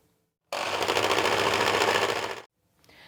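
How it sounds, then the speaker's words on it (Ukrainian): Electric hand mixer whipping egg whites into meringue as sugar is added, a steady loud whirring drone for about two seconds that stops abruptly. "Тепер потроху додаємо цукор, продовжуючи збивати."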